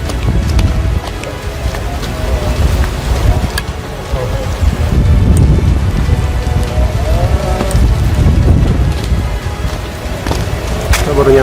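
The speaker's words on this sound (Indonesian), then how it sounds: "kondisinya hujan ya" Steady rain falls on a hilltop at Bukit Moko, a dense constant patter on surfaces with some louder nearby drips, while people talk faintly underneath.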